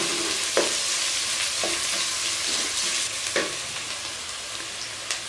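Long-sliced medium onions fry in a pan with a loud, steady hiss, broken by several short scraping stirs.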